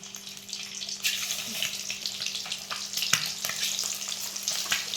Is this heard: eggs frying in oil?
yes